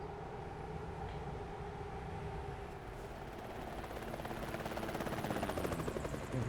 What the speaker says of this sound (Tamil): ஹெலிகாப்டர் வேற